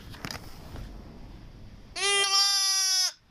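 A newborn lamb gives one loud, sustained bleat of about a second, close to the microphone, after a stretch of quiet background noise.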